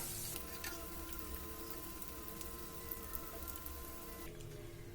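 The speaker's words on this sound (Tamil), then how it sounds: "ரெண்டு சைடுமே எண்ணெயில் நல்லா ஃப்ரை ஆயிடுச்சு." Chickpea and potato snacks fry in hot oil with a steady, continuous sizzle and soft crackle, close and even throughout, with no voices.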